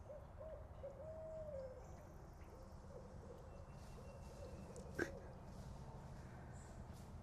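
Owl hoots repeat softly over a steady, noisy background hiss. A brief sharp click breaks in near the end.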